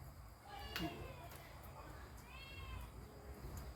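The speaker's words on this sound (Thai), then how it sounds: "เอามาแล้วลูกแมวค่ะ" A kitten gives a couple of faint, thin meows some seconds apart, quiet and half buried under background noise and nearby talking.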